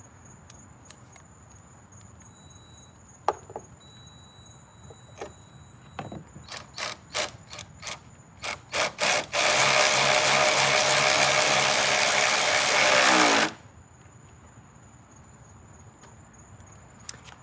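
A cordless ratchet on an extension loosens a car battery bracket: a run of separate mechanical clicks and short bursts, then a sustained loud motor whir for several seconds before it stops, close up.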